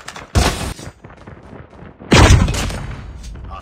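Two sharp bursts of gunfire crack from a first-person shooter game, one near the start and a heavier, booming one about two seconds later, each trailing off into a brief rumble.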